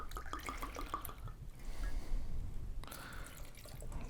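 Tequila is poured into a glass rimmed with Tajin and coarse salt for a margarita, making a quiet, close liquid trickle and splash that lasts a few seconds.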